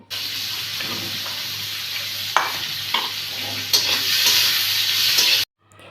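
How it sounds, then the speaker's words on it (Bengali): Chopped onion fries in oil with cardamom, cinnamon and bay leaf while being stirred, making a steady close hiss with a few spoon scrapes. It cuts off abruptly near the end, and no one speaks. "এলাচ দারচিনি তেজপাতা দিয়ে কিছু কুচি করে রাখা পেঁয়াজ দিয়ে ভালোভাবে নাড়াচাড়া করে কিছুক্ষণ ভেজে নেব"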